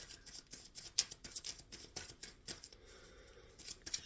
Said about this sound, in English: Shuffling for the Leo collective for July 2025.